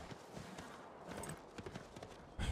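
Horse hooves clip-clop in a quick irregular rhythm as a horse travels through mountains in the video game Civilization VI, faint and close, ending on a louder thump.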